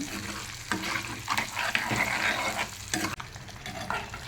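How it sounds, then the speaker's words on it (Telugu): Turmeric dropped into hot cooking oil in a home kitchen pan, a steady broadband sizzle with stirring scrapes and a few louder bursts, close and continuous without talk. "ఆయిల్ వేసుకొని కొద్ది పసుపు వేసుకొని ఆయిల్లో వేస్తున్నాను"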